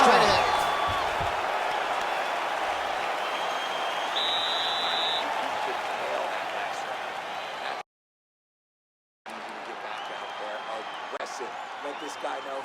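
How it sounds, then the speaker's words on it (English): A video-game arena crowd at a UFC 5 bout between Du Plessis and Khamzat roars and applauds in a steady, loud wash, breaks off into a brief silence, then resumes. "the crowd voicing its appreciation after that crazy sequence in the previous round"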